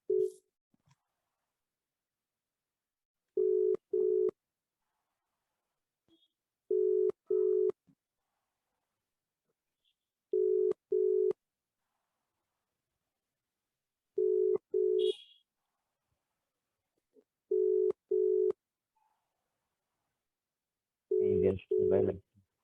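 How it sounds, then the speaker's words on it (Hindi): A mobile phone call ringing out unanswered, the ringback tone repeating as paired beeps roughly every three and a half seconds, six times over near silence, then a brief burst of a voice or message at the end. "इतनी रिंग में नहीं उठा रहे, शायद नहीं मिलेंगे।"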